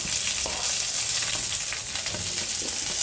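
Green chillies sizzle in hot oil in a pan as curry is started, a dense continuous frying hiss heard up close and alone.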